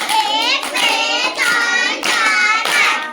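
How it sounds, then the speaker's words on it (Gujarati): Children in a primary school class clap in five sharp, evenly spaced bursts that are loud, close and crisp, with no talk between the claps. "ચલો પાંચ તાળી પાડ દો ભાઈ"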